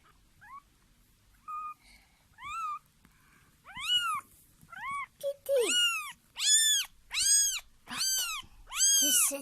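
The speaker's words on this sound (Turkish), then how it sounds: "Bak kedi getirdi sana Çınar." A kitten meows repeatedly, soft and hesitant at first, then louder and more insistent in a quick run of high, whining cries.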